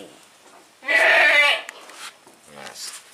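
A young male goat about three or four months old gives one loud bleat close by. Quieter voices and animal sounds follow it.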